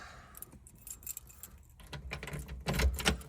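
Car keys for a restored 1967 Chevrolet Camaro RS convertible with a 327 V8 jangle and clink faintly up close, getting a little louder toward the end.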